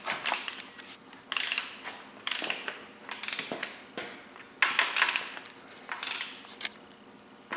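A torque wrench clicks and ratchets as main bearing cap bolts on a Cummins 5.9L engine bottom end are tightened, giving a series of close, sharp mechanical clicks and creaks in irregular bursts.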